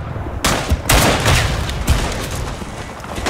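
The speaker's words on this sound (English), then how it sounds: "I'm throwing a grenade there" Gunfire and a thrown grenade in the Verdun first-person shooter, a burst of loud overlapping shots and blasts over constant battlefield rumble, dense and close, with no voices.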